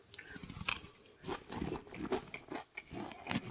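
Close, quiet crunching of a Chinese chicken salad being chewed, a series of irregular crisp bites and mastication pulses over a few seconds with no talk.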